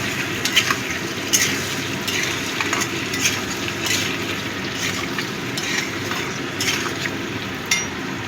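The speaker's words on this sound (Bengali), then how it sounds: "নুনটা দিয়ে ভালো করে মিশিয়ে দিচ্ছি।" Potato and pointed gourd curry sizzles steadily in a pan while a spoon stirs it, with a constant frying hiss and repeated light scrapes and clinks against the pan.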